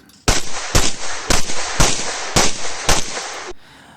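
Six loud, sharp pistol shots ring out at a steady pace during a USPSA practical shooting stage, each a close, punchy crack with a short echo, followed by quiet.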